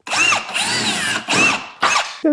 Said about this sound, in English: I'm going to just drill these out for the holes we're going to rivet through